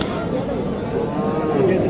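A cow gives a low, drawn-out moo close by at a cattle market, rising through the second half above a noisy outdoor crowd murmur.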